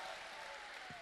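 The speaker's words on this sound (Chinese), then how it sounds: "谢谢大伙的掌声鼓励" Audience applause at a Deyunshe crosstalk comedy show, a steady, dense wash of clapping filling the whole brief moment with no voices over it.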